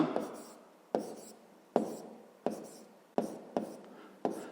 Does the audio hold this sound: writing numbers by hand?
yes